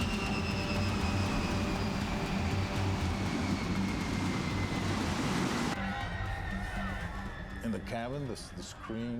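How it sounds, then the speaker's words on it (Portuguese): A loud, steady roar of wind rushing against the fuselage of a falling plane, out of fuel over New York, fills the whole stretch, close and unbroken, with a voice heard over it near the end. "O som do vento contra a fuselagem, enquanto o avião despencava do céu."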